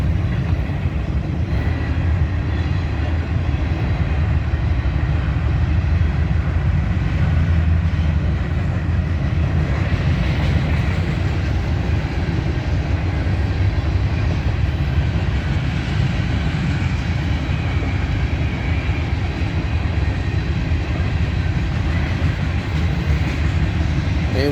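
An eastbound BNSF grain train led by locomotive 4328 rolls steadily past in Grand Island with a Norfolk Southern unit at the rear, a loud continuous rumble and rattle of freight cars with no talking.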